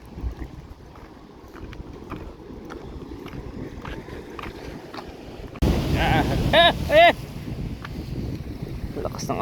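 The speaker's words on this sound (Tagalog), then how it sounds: "Lakas ng alon." Strong ocean waves wash onto a fine-sand beach at Aparri, Cagayan, a steady roaring surf that swells louder midway, with heavy wind buffeting the microphone and a brief voice heard over it.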